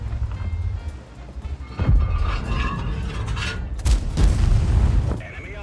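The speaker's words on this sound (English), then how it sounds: "Enemy armor is hit. Enemy vehicle destroyed." Shell impacts and a tank being destroyed in World of Tanks, heavy booming hits around the two- and four-second marks over rumbling engine and battle noise, with game voice lines alongside.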